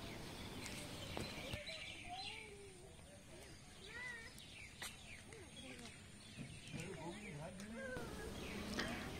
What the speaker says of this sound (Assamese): কিচিৰি মিচিৰি কৰি এখিনিমান চৰাই উৰি গৈছে ওপৰেদি